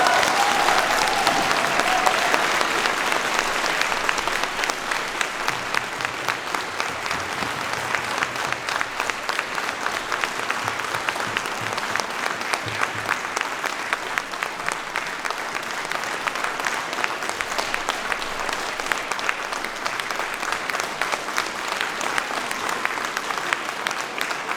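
A concert audience gives sustained applause in a hall at a Lāčplēsis Day commemorative concert, a dense, even roar of clapping that stays loud throughout with no break.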